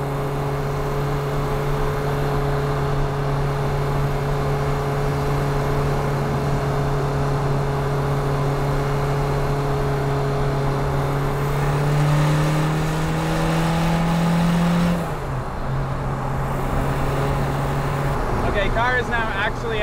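A car engine with a VNT turbo idles steadily while warming up, a low constant hum with a brief rise in pitch midway, loud and close, with faint voices briefly in the background.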